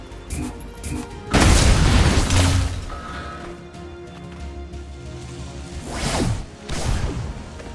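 A grenade blast in the XCOM: Chimera Squad tactical game, a loud booming explosion with a whooshing crash and lingering rumble, followed by a couple of softer impact bursts near the end.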